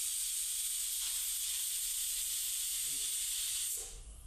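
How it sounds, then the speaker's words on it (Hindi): Pressure cooker cooking chicken biryani over a high flame gives off a steady, loud hiss of escaping steam that runs unbroken for about four seconds before easing off. "और बस हाई फ्लेम पर आपको यहाँ पर 2 सीटी लगानी है"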